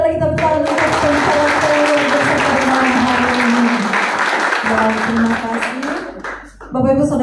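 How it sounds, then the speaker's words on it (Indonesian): An indoor audience applauds after an evening talk at a Christian gathering, sustained loud clapping for about six seconds that briefly fades, then swells again near the end. "Berikan sekali lagi tepuk tangan untuk pembicaraan luar biasa pada malam hari ini."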